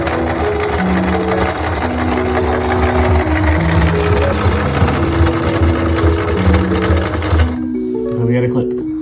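A sewing machine stitching a Lego lanyard runs steadily with a fast mechanical whir and rhythmic needle clatter, then stops near the end as a person talks over it.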